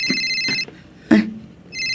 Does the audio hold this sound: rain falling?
no